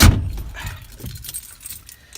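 Keys jangle loudly up close as a van is unlocked and opened, a sharp metallic burst at the start that tails off into quieter handling clicks and rustle.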